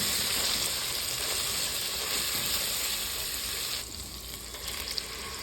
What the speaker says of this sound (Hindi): इसी पॉइंट पर मैं यहाँ डाल रही हूँ कुटी हुई लाल मिर्च, हल्दी और इसको मिक्स करेंगे